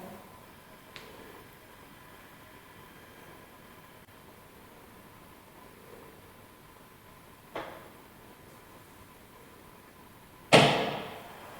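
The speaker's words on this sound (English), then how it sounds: "Oh, that's the door." A heavy door in an old prison gives a few faint knocks and clunks against a steady hiss of room noise, ending in a louder sharp bang near the end, with no voices.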